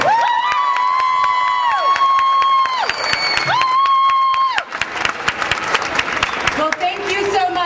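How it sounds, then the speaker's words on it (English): A crowd at a school choice rally in Ohio claps and cheers, with loud whoops and whistling-like tones rising over dense applause that continues throughout. "A wonderful round of applause for our Lieutenant Governor, Mary Taylor."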